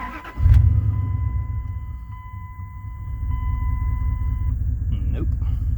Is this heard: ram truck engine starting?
yes